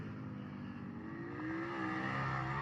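A BMW motorcycle engine revs steadily at an American Flat Track short-track race at Daytona, a continuous loud drone with a rising pitch sweep midway and no talk over it.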